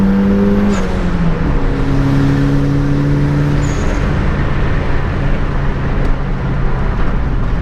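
Turbo Miata accelerating in 4th gear after a downshift, engine droning loud and close with a rising tone as revs build, over steady road and wind roar.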